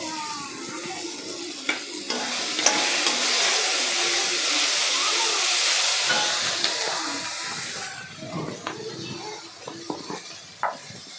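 A mixer grinder whirs through ginger, garlic, cashews and soaked poppy seeds for a masala, a loud hissing grind lasting several seconds before stopping, followed by scattered clinks and small kitchen knocks.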